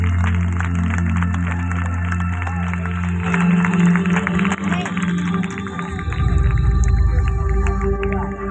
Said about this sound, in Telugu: అందరు గట్టిగా చప్పట్లు కొడుతూ